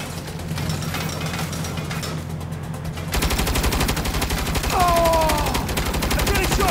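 Turret gunfire rattles continuously in Saints Row, a loud, dense stream of rapid shots layered over game effects and music without pause.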